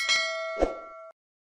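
A short metallic clang followed by a bright ding that rings briefly and cuts off, like an alert chime, alone and fairly clear.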